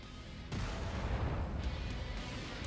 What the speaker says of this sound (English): Oh, he's got an ammo explosion.